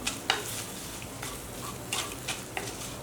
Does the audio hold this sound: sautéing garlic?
yes